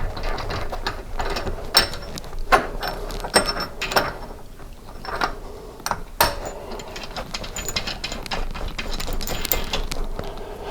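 A pusher tool presses the crankshaft sprocket onto a 1983 BMW R100RS crankshaft, giving a steady run of ratcheting clicks and sharp metallic ticks with irregular louder clacks over a low mechanical hum, and no talking.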